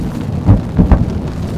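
Thunder from a passing storm with light drizzle rumbles in a few low, heavy bursts, loud and close, with no voices over it.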